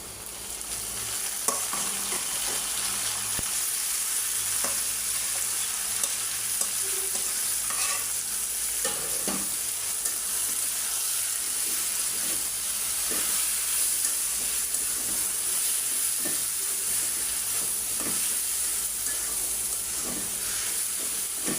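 Boiled red amaranth greens being stirred into a pan of onion, garlic and dried chili frying in oil, a sustained hissing sizzle with steady spatula scrapes and occasional pops over the whole stretch, no speech.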